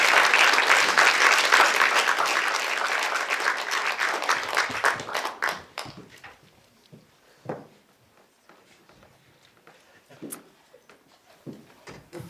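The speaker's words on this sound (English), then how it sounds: "can we give them a round of applause" Audience applause at a live poetry event, a dense round of clapping that holds for several seconds, then thins out into scattered, fading claps and small room noises.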